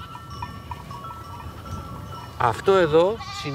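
Free-roaming goats on Alonissos bleat close by in the maquis. A couple of wavering calls come near the end, over a faint outdoor background.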